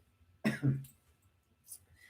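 A single close cough made of two quick bursts, then quiet with a faint rustle.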